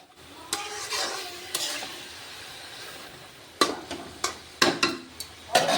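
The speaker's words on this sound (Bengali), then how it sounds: "এবার একটু নেড়ে দেবো" Spicy chicken kosha stirred in a pan, a quiet sizzle broken by a few spoon scrapes, then a cluster of sharper metallic clanks against the pan near the end, close by and without talking.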